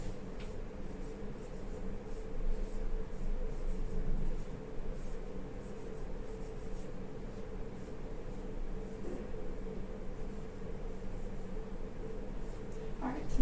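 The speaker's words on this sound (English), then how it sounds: "I'm just going to write down what the ideal gas law is." Pen or pencil scrawling steadily as the ideal gas law equation is written out, a continuous soft scratching over faint room hiss with no talking.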